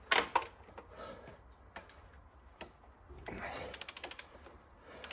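Ratcheting clicks from a torque wrench working on a Cummins NTC350 diesel engine during assembly, a quick burst of close metallic ticks near the start and a faster run of clicks toward the end, over a quiet shop background.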